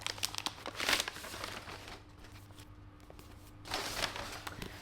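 Paper wrapping is crinkled and torn off a book up close, in quick rustling bursts near the start and again near the end, with a quieter stretch between.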